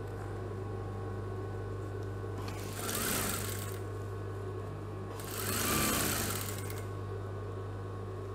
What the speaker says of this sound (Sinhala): වාටිය මහන්න